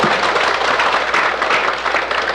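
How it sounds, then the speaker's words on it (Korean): Church congregation at a revival service clapping together, a loud, dense wash of applause filling the room without pause. "하나님 영광의 박수 한번 쳐요"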